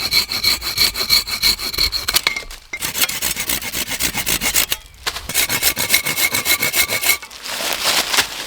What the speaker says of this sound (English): So I'm just sawing halfway into this wood, which will allow me to crack it in half